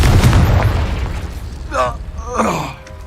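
In the Hogwarts Legacy video game, a Confringo blasting spell sets off a deep, rumbling explosion that fades out under a shouted voice and game sounds.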